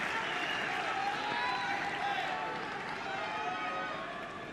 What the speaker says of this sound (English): Crowd recognising that, of course, as well here. As noisy as they've been for some time.